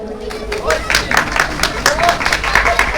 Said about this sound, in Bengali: আপনারা একটু জোরে হাততালি দিন